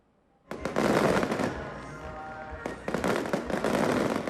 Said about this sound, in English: Dragon dances, fireworks, and explosions, all part of celebrating the Lantern Festival in Taiwan